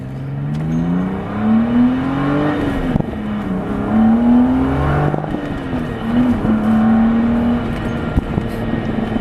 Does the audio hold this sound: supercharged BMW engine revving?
yes